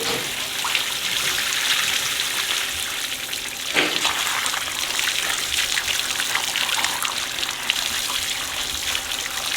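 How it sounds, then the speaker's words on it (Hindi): Saag greens being washed in a pan of water in a village kitchen, a steady wet trickling and sloshing with small splashes throughout, close and continuous. "मैंने कहा साग को धो लूँ अच्छी तरीके से"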